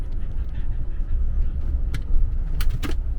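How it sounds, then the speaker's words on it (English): A van driving down a road, heard from inside as a steady low road rumble with a few light clicks and rattles near the end. "I'm gonna film because I'm driving down a road."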